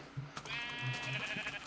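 Sheep bleat in the Minecraft video game, a brief wavering baa heard clearly over faint background noise, with no voices.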